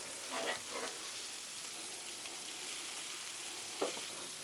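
Butter hits a hot griddle for a chicken cordon bleu sandwich, setting off a soft, steady sizzle with a couple of brief sharper spatters, heard fairly quietly and with no speech.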